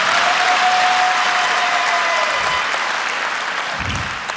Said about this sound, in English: Let's give the chairman another big round of applause